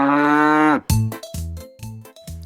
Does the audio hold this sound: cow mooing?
yes